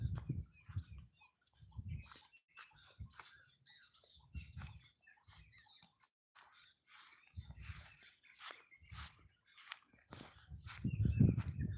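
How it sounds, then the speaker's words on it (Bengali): Birds call and chirp outdoors on a fine morning among green grass and trees, their short scattered notes fairly faint and intermittent, mixed with soft rustling and low handling thumps close by. "পাখির ডাক শোনা যাচ্ছে"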